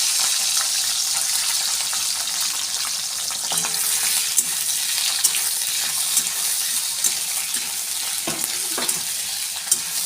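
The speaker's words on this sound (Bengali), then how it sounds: "তেলটা গরম হয়ে গেছে, আমি চিংড়ি মাছগুলো ভেজে নেব।" Prawns fry in hot oil in a wok, giving a continuous moderate sizzle with occasional sharper crackles and utensil clicks, heard close with no speech.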